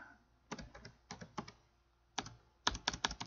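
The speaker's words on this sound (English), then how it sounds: "I can't really talk while I type" Faint, close typing on a computer keyboard comes in short clusters of quick key clicks separated by brief pauses, with no talking.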